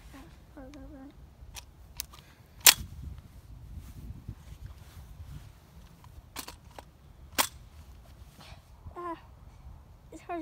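A CO2-powered DPMS full-auto SBR BB air gun is cocked and fired, sharp isolated snaps and clicks spread across quiet background, with a brief faint voice in between.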